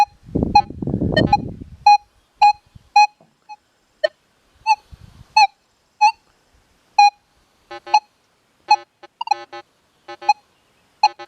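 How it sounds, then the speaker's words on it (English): Sharp electronic beeps from a Manticore metal detector with an M8 coil, sounding as the coil sweeps close over a small piece of nail, come in a regular series of short pulses after brief rustling at the start. "Hear that? Giving good signal, considering how close that coil is to that little piece of nail."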